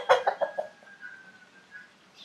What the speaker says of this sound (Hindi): ये मुर्गे चेक करें जी